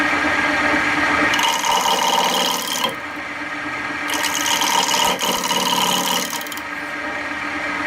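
Wood lathe spinning at 1100 RPM as a gouge takes a test cut on a bowl blank, giving steady rasping, scraping bursts of tool on wood with a brief pause between passes, close and loud without speech.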